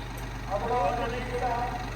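A tractor engine idles at a tractor trolley-pulling competition, a steady low rumble beneath loud nearby talking voices.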